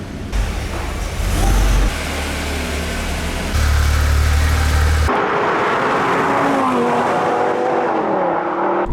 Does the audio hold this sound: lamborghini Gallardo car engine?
yes